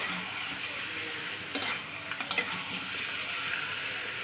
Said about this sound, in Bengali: এবার চিকেনটা ভালো করে আমি তেলের উপরে একটু ভাজা ভাজা করে নেবো